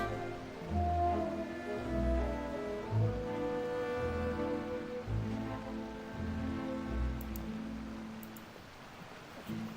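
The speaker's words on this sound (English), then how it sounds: "Oh, it's raining." Steady rain falls in a video game, a constant soft patter layered under sustained background music with no talking.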